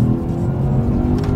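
A Lexus RC F sports car engine making a loud, sustained throaty roar heard up close, dense and steady for a little over a second with no speech.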